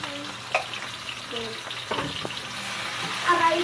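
Corned beef sizzling and frying in a pan with potatoes nearby, a steady close hiss with occasional stirring clatter and faint background voices.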